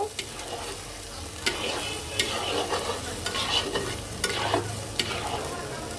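Mutton curry spice paste with added salt being stirred in a hot pan, a continuous sizzle punctuated by repeated scraping knocks of the spoon against the pan, close and clear.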